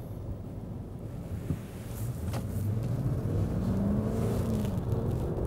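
A Lexus LX 570 SUV accelerates, its engine rising in pitch and loudness from inside the cabin, with a low steady road and wind rumble underneath.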